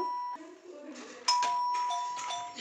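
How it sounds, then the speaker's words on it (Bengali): A home doorbell rings with a few electronic chime tones in succession, moderately loud indoors, with faint voices in the background. "এদিকে কলিং বেলটা বেজে উঠল।"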